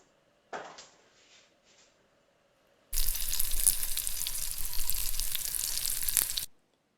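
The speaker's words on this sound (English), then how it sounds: "This was an example of frying." Food fries in a pan with a bright, crackling sizzle that starts abruptly after a few faint clinks and scrapes, holds steady and loud for about three and a half seconds, then cuts off.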